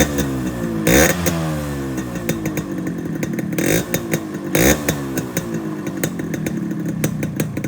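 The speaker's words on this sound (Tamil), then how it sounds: "இப்போ இந்த வண்டியோட பீட் சவுண்ட் கேட்கலாம் வாங்க" A restored Yamaha RX135 two-stroke motorcycle idles close by with a rattling, buzzy beat, blipped by several sharp throttle revs that swell and fall back to idle.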